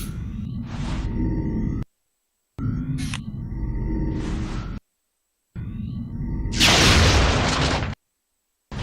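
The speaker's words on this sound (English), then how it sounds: "Let's see that laser rifle in action, shall we, Dr. Fallon?" Laser rifle shots from XCOM Enemy Unknown ring out in three separate loud bursts split by silent gaps, each a bright sustained zap, the last one a harsher noisy blast.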